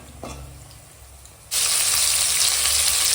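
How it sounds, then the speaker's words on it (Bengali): Oil crackles and sizzles quietly at first, then bursts into a loud, steady frying hiss as sun-dried lentil dumplings go into the hot pan. "এখন বড়ি ভাজা হচ্ছে মাছের ঝোলে বড়ি দেওয়া হবে যেন বড়িটা ভেজে নিচ্ছি"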